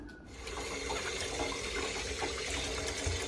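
Steady running water from a tap while peaches are washed in a village kitchen, a continuous splashing rush with small clinks, close and alone.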